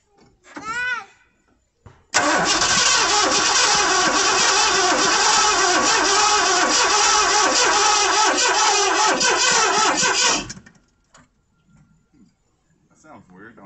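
A 1986 Ford F350 V8 cranks over and roars into a loud, steady run for about eight seconds, then cuts off abruptly; a brief voice comes just before it starts.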